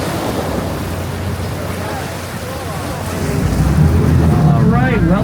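Open-air ambience aboard an amphibious bus-boat on the Charles River in Boston: a steady rush of wind and water under a low engine rumble that swells louder midway, with voices talking toward the end.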